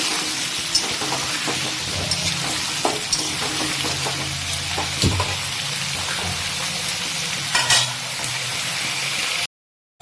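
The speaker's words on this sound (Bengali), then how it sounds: "আলুটা ভাজা আমাদের প্রায় 10 মিনিট হয়ে গেছে" Potatoes frying in oil over a high flame after about ten minutes of cooking: a loud, dense, steady sizzle with occasional pops and stirring scrapes, cutting off to silence just before the end.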